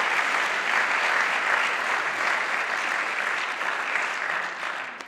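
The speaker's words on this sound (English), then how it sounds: "Will we give them a round of applause?" Sustained audience applause at an evening event, dense steady clapping filling the whole stretch at full strength before easing slightly toward the end.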